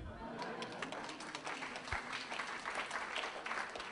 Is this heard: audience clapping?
yes